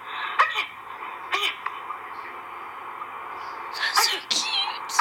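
A dog sneezes several times, giving short sharp snorts spaced a second or more apart, with a quick double burst near the end, heard up close at moderate volume.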